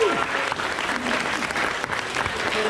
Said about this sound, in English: It might give you a round of applause for that